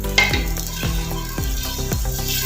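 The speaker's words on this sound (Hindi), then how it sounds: "लहसुन अदरक के साथ इसको अच्छे से भूनें" Beef fries in hot oil with garlic and ginger for haleem. A steady sizzle runs under rhythmic stirring strokes, about five scrapes of a spoon against the pan, close and clear.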